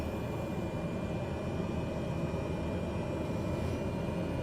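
Turboprop aircraft engines hold a steady, broad droning roar at high idle with the propellers at max before takeoff, constant and moderately loud throughout with no speech.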